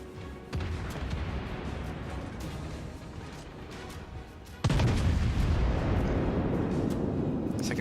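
In a warship video game, a naval cruiser's guns fire a salvo: a low, rumbling background gives way to an abruptly loud, sustained booming roar partway through, with no speech.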